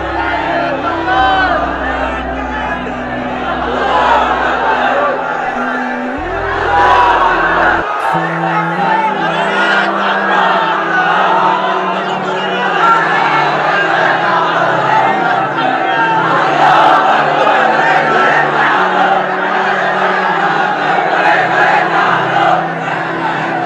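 A large religious gathering raising slogans together, a loud, dense roar of many voices chanting and shouting continuously with swelling cries, a low hum dropping away partway through.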